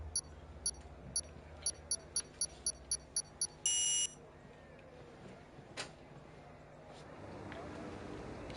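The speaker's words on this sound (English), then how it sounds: "So I can hear the beeps while the guys are on the grid." Starting grid beeps in a racing game on an Austria track, a regular series of short sharp electronic beeps ending in a longer tone, with soft engine hum underneath.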